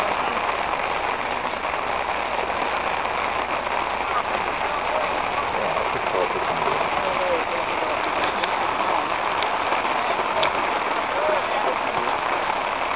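Steady, dense hiss of rain falls continuously, with a low rumble underneath and faint voices mixed in.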